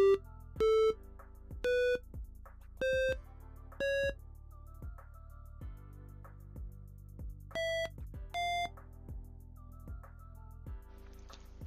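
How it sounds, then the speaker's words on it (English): A micro:bit sounds short electronic tones whenever an aluminium-foil pin is pressed, giving about ten separate beeps in an uneven rhythm with quiet gaps between them. "I'm gonna put play tone from music here."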